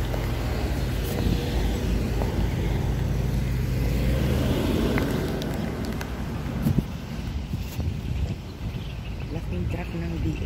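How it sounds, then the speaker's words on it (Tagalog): A large DHL delivery truck rumbles past outdoors in Oman, its steady low engine drone filling the scene alongside wind noise and faint insect sounds, with no one speaking. "Laking truck ng DHL."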